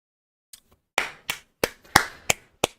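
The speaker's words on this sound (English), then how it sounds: "Round of applause." Several sharp claps ring out one after another in an uneven rhythm, close and fairly loud, a small round of applause from one or two people with a faint tap just before.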